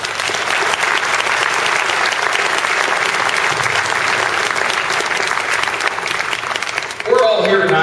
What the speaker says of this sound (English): I want to give a round of applause to all the hosts that put this together tonight.